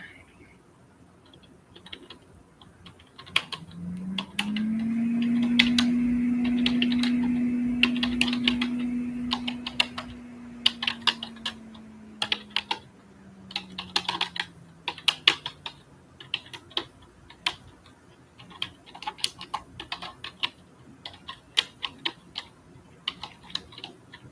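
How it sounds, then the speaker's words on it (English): Rapid, irregular clicking of computer keys being typed on, close and steady throughout, with a low humming tone swelling in the background for a while. "Keyboard sounds time."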